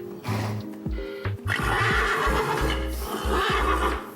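A horse neighs and whinnies repeatedly in agitated bursts, close by, with hooves shuffling and clopping underneath.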